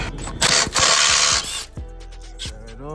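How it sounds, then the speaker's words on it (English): A ratchet clicks in quick bursts as E18 bolts on a BMW 440i engine strip bar are loosened, close and sharp, with short pauses between the runs of clicks. "What I'm doing now is just taking off the E18 bolts for the strip bar."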